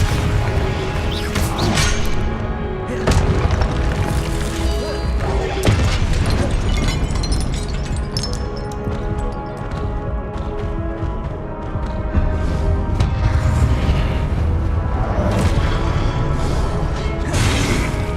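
Spell blasts and crashes from the Confringo blasting spell in Hogwarts Legacy, with repeated booming impacts and whooshes over dense, continuous game music and effects.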